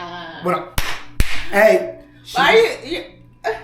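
Two sharp hand claps ring out close by, a quick pair of smacks set among steady conversational talk from a man and woman.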